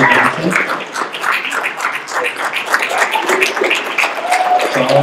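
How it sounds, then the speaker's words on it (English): Audience applauds at a Raven High School graduation awards ceremony, with a steady patter of many hands at moderate loudness, mixed with cheers and shouts from the crowd. "big round of applause"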